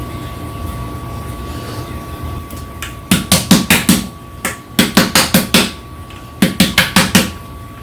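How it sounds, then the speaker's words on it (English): A spatula works quickly around a huge mixing bowl of pound cake batter, making bursts of rapid, rhythmic scraping strokes in quick runs, separated by brief pauses, over a faint steady hum. "This is a huge bowl, by the way. And I'm just trying to scrape it down good."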